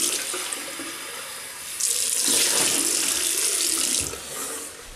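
Running tap water splashes into a sink for rinsing after a shave with a Merkur 34C safety razor, a steady close wash that swells louder in the middle before easing off.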